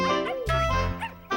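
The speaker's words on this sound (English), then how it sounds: "there was a little white dog called Mabel" A small cartoon dog yaps in a children's TV show, several quick high barks and yips over bright music, close and loud.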